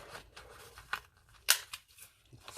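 Scissors snip through a paper folio sheet in a few sharp, close cuts, with one especially crisp snip standing out among quieter handling noises.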